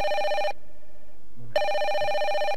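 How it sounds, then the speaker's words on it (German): An office telephone rings loudly and close with two electronic bursts, a half-second ring, a one-second pause, then another ring. "Moment, Telefon."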